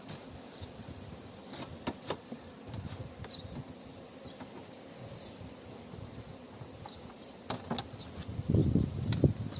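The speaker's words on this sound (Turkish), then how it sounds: "Arılar mum örüyorlar." Honeybees in a modern beehive hum and buzz steadily up close, with a louder surge of buzzing near the end.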